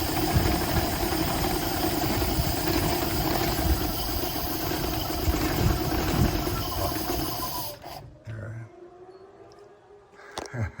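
Stromberg DD-3 carbureted engine running with a heavy 97-pound flywheel, a steady close mechanical drone that fades and drops away near the end, leaving a few faint knocks.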